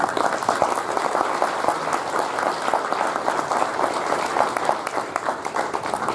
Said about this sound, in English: you need to give them a round of applause as well